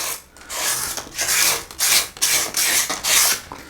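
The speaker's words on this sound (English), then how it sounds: "just use some sanding paper and clean out the inside" Repeated rasping strokes of sandpaper scrubbing the inside of a metal front wheel bearing housing on a Lotus Elise upright, a steady back-and-forth rhythm of about six or seven passes, close and fairly loud.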